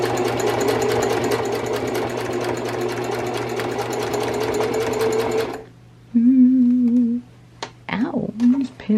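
A Singer Heavy Duty sewing machine stitches denim in a fast steady mechanical whir for about five seconds, loud and close, then stops, and a voice speaks afterward.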